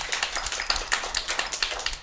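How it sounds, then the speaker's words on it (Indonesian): Hand clapping from an audience at a university student senate candidate integrity forum, a quick steady run of individual claps, fairly faint and thin, with no voices. "Beri tepuk tangan dulu yang meriah."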